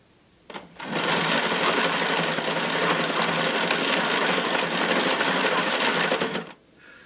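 A Bioscope 35mm hand-cranked movie camera runs steadily for about six seconds, a dense, even mechanical whirring and clattering close up, starting and stopping abruptly with no talking.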